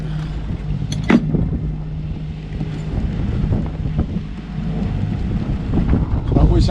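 A sailboat under storm sail in a thunderstorm, with big waves and strong wind giving a constant rushing, buffeting roar and splashes, and a sharp crash near one second. Someone talks over it at times.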